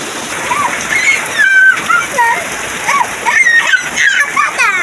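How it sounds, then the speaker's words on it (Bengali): Rain falling outdoors near a house yard, a steady splashing patter with birds chirping over it. "বৃষ্টি শুরু হয়ে গেছে"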